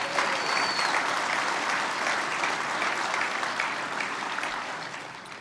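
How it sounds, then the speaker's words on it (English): A round of applause from an industry forum audience closing a Texas governor's speech, dense and sustained clapping that fills the room evenly and tapers a little near the end. "the best way to end a speech is with a round of applause"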